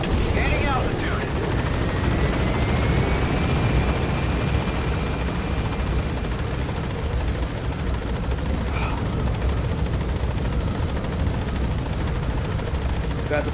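A helicopter climbs in the Metal Gear Solid V video game, its rotor and engine giving a loud, constant dense roar from start to finish with a faint rising whine early on.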